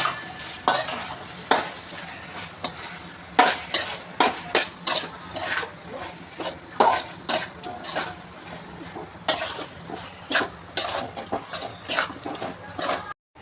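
Vegetables and spices being stirred in a frying pan for veg pulao, with repeated sharp scraping and clinking strokes of a spoon against the pan over a steady low sizzle, close and fairly loud.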